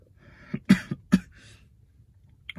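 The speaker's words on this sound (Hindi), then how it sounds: "खांसी हो रही है जुकाम भी हो रहा है" A person coughs several times in quick succession, loud and close, during an Eid meetup while suffering from a cough and cold, with quieter rough throat sounds between the bursts and nothing else heard.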